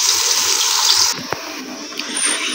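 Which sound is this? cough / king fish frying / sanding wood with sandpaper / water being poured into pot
water being poured into pot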